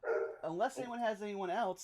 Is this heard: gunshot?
no